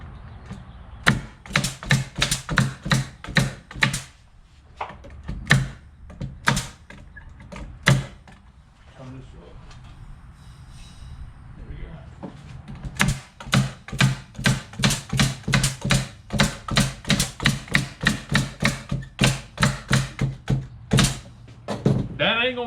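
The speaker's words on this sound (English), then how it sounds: "And I'm gonna nail that bad boy." Steady hammering of nails into a wooden catfish noodling box, dozens of sharp close strikes in quick rhythmic bursts with a short pause midway.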